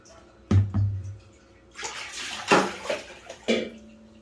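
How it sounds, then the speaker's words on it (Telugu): Soaking water is drained from soaked wheat grain batter, producing several short splashing and pouring bursts with quieter gaps between them, close by. "ఈ నీళ్ళు ఇప్పుడు తీసేస్తాము."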